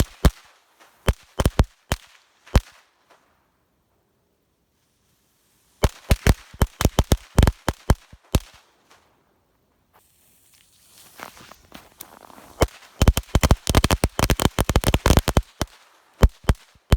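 Thunder Bomb firecrackers set off outdoors after a snow storm, popping in sharp, loud bursts: a few scattered cracks, then rapid irregular volleys of bangs with short silent gaps between groups.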